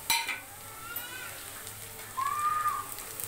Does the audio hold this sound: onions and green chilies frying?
yes